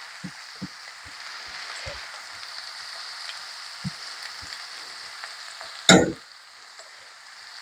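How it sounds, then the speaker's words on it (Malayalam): Onions with salt frying and being stirred in a pan for a spicy chicken roast, a constant close sizzle with soft scrapes and taps, plus one louder clatter near the end. "ഇനി നമുക്ക് നല്ലോണം വാടുന്ന വരെ ഇളക്കാം."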